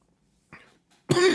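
A sick man gives a weak, short throat-clearing cough in a quiet room, then after a pause breaks into a louder, harsher cough close to the listener.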